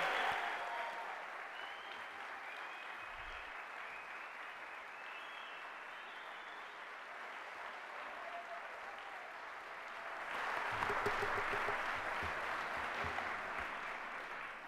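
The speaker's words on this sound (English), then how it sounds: "Would you please join me in a round of applause for all these amazing people?" A large plenary audience at a Jewish community centre biennial conference gives a long round of applause, steady and full, swelling louder near the end.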